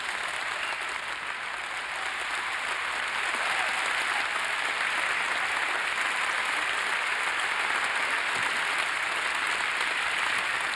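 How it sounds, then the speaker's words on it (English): Sustained applause for graduating students at a high school commencement ceremony in a large hall, a broad, steady roar of many hands clapping that swells a little after the start and continues without pause. "May we have a round of applause for these students."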